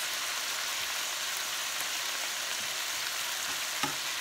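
Chicken pieces searing in a hot pan, a dense even sizzle that hisses continuously from start to finish, close and steady, with no voices.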